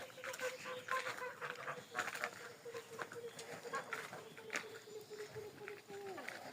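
Goslings peep and chirp softly in a small cluster while a person talks nearby, the calls rising and falling in quick bursts.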